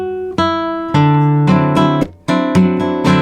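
Spanish nylon-string guitar playing a famous rumba in its original minor key, with strummed chords and melodic runs sounding close and full, unaccompanied and without any voice.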